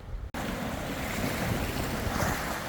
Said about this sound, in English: It is super windy down here, freezing.